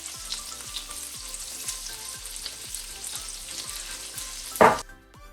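Curry leaves fry in hot oil with a steady, close crackling sizzle, overlaid by a regular ticking beat and ending in a brief louder burst of spitting.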